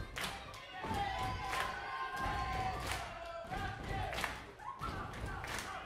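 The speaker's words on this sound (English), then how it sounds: "The crowd is getting thunderous here for James Shaw." A wrestling crowd at an independent pro wrestling championship match roars and cheers, with loud surges of noise, some claps and thuds. A commentator's voice is partly audible underneath.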